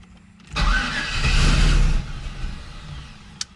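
A turbocharged LS engine in a Camaro fires up for the first time: a cranking catch, then a loud, rough idle that holds for over a second before settling lower, close by.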